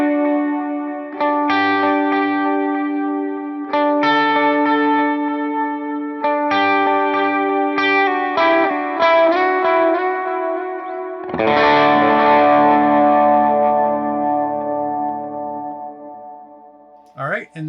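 Electric guitar through a Line 6 HX Stomp preset with delay and a long 4.5-second reverb, playing clean chord strums and picked notes that ring into echoing tails, ending in a big sustained chord wash, alone.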